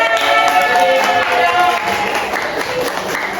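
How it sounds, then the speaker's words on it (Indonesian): A classroom bursts into dense, steady applause that holds for a few seconds, with some crowd noise and faint voices mixed in. "Oke, tepuk tangan."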